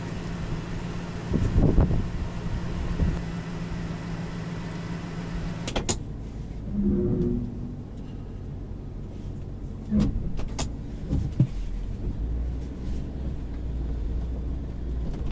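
A pickup truck carrying a homemade camper top drives along a road with a steady engine hum and road noise, occasional clunks and bumps, with a deeper rumble rising near the end.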